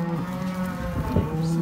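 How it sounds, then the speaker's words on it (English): Cattle in a corral on a family farm, during calf weaning, moo loudly and close by in several overlapping low, drawn-out calls. "I'm gonna go get some cows for Ryan."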